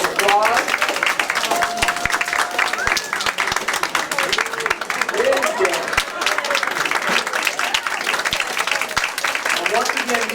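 A room of guests at a holiday potluck celebration gives students a sustained round of applause, loud and continuous clapping with some crowd voices mixed in.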